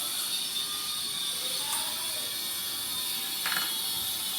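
A sewing machine stitches a seam on a salwar, giving a continuous fast mechanical whir and rattle close by, steady throughout with a couple of brief clicks, and no talking.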